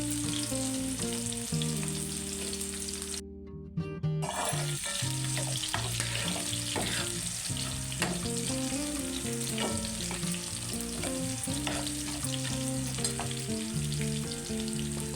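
Onion frying in a pan for an egg and tomato curry, a loud continuous sizzle close up with occasional stirring scrapes and a short break early on.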